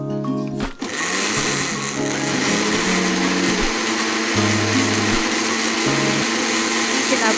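A blender grinds golden-brown fried onion and tomato into a mixture, its motor whining loudly and steadily while the pitch steps up and down as the blades catch, after a brief start-up.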